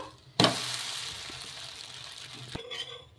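Oil sizzles loudly on a peanut dosa in a hot pan, bursting in suddenly and holding a steady crackle, then briefly cutting off before resuming near the end, with faint clinks in the background.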